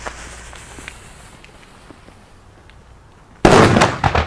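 Pyrounion retro Kanonenschlag firecrackers go off in a sudden, very loud close burst of bangs after a quiet stretch with faint footsteps, followed by a second sharp report.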